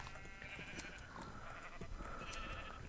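Sheep in the Minecraft video game bleat softly a few times over a steady low background hum, with no talking.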